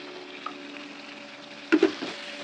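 Quiet, steady sizzle of banana flower sautéing in oil for pickle, with a few soft clicks from a stirring utensil near the end.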